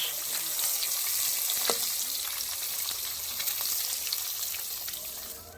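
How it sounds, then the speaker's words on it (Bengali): Katla fish pieces sizzle steadily in a hot pan during a rooftop winter family picnic, a dense, crackling hiss that holds evenly for several seconds with a few sharper pops and no voices. "মাছ ভাজা কাতলা মাছ ভাজা"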